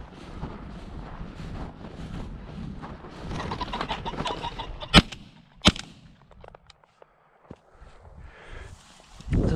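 A shotgun fires during a pheasant hunt outdoors, two sharp loud reports a moment apart over wind noise, footsteps and rustling in the field.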